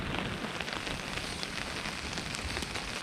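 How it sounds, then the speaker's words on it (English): Heavy rain pours down at a river portage in the Kawartha Highlands, a dense, steady roar of drops hitting surfaces all around. It is loud and unbroken for the whole clip, and no one speaks. "I haven't seen rain this hard in a long time. There's a lot of rain right now."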